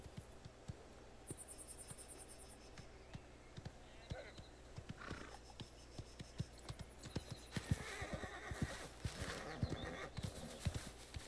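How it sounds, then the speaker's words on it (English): A horse in Mafia: The Old Country clip-clops along with steady hooves and gives a whinny, while crickets chirp behind it and a voice talks over part of it. "Good horse."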